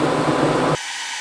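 Broadband blowing air from a PrimeWeld TIG 325 welder sitting below a welding table, loud and steady, cutting off abruptly partway through to leave only faint background hiss.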